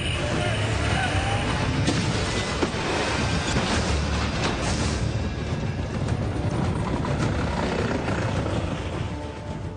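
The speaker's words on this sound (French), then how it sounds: "il s'agit de forcer un barrage composé de 2 véhicules. La technique est simple, il faut aller tout droit et viser en plein milieu" A car driven at speed straight at a roadblock of two vehicles during security-driver training, a loud, continuous engine and road roar with rattling and thumps, no clear voices over it.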